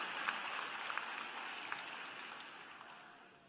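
Commencement audience applauding at a university graduate and professional ceremony, a faint, distant wash of clapping that gradually fades away.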